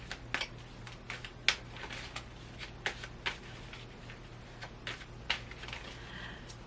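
Tarot cards being shuffled by hand, soft papery riffles and sharp taps scattered irregularly over several seconds, close and moderately quiet over a low steady hum.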